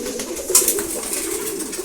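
A lone racing female pigeon in a cage gives a short, close coo, a soft sustained throaty sound lasting barely two seconds.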